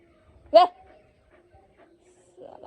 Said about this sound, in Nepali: मेरो कुकुरको नाम चाहिँ फेन्टा हो, हेर्न सक्नुहुन्छ